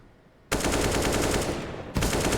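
Rapid automatic gunfire from a CS:GO match on Vertigo between pro teams, loud sustained bursts starting after a brief quiet lead-in, pausing briefly, then resuming.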